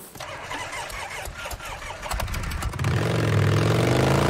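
A motorcycle engine in the video game Days Gone cranks with rapid clicking and sputters, then catches and settles into a loud, steady idle rumble.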